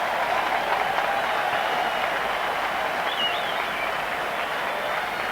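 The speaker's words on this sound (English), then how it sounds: "So the crowd giving him a great hand" A cricket crowd at a 1984 New Zealand versus England match applauds steadily and warmly, a broad, distant wash of clapping that holds for several seconds without speech.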